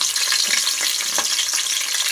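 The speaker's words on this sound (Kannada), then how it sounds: "ದಪ್ಪ ಮೆಣಸಿನಕಾಯಿ ಒಂದು ಸ್ವಲ್ಪ ಫ್ರೈ ಆಗಲಿ" Capsicum fries in oil for veg pulao, a continuous close sizzle with soft stirring scrapes, no voices.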